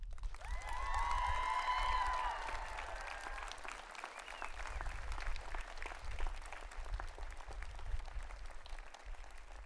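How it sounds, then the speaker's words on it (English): Audience at a university convocation ceremony breaks into steady applause, loud at first and then settling into a sustained, even clapping that fills the whole stretch without a break. "and with a round of applause."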